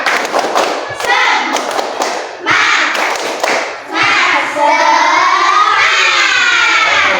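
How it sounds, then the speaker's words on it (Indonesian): A group of students does a rhythmic Indonesian spirit clap during a classroom training session, sharp patterned claps and thumps broken by short pauses, followed by voices shouting together. "Oke, tepuk tangan. Tepuk semangat."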